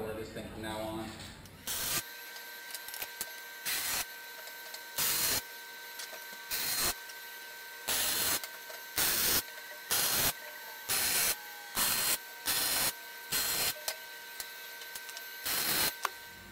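A Millermatic 211 MIG welder on auto set with .030 wire laying corner beads on a weld table top, short loud crackling bursts of arc repeating in uneven bursts with quiet gaps between them.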